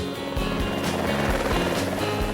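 A helicopter's rotor thumps in a steady, rapid rhythm over a loud engine whine, close and continuous.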